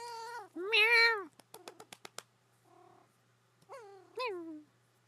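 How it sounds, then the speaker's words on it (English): Pet cat named Ranma meowing indoors, a few close drawn-out meows, with soft clicks between them and a quiet setting around. "Kitty noises."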